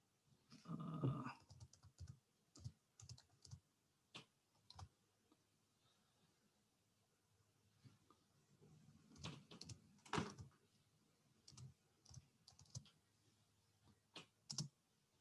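Keys clatter on a computer keyboard in quick irregular bursts with pauses between them, faint and close in a quiet room, while a few louder thumps and knocks break in.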